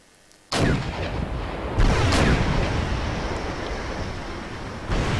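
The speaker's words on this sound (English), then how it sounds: "their heavy artillery is coming in now" Heavy artillery fire in the war strategy game Wargame: European Escalation during a massive tank battle: a dense, roaring barrage of rumbling blasts that lands in three waves, with no talk over it.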